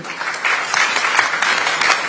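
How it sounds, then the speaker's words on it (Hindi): A crowd at the News18 India Chaupal 2025 event applauds Andreas Konik on stage, a dense, lively burst of clapping that holds steady throughout. "जोरदार तालियां एंड्रियास कोनिक के लिए"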